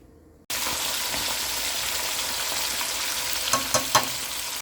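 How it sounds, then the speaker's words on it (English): Steady, dense sizzle of butterfish frying in a pan, crackling continuously, with a few louder pops and spatters near the end. "So time to do some fish frying with some butterfish."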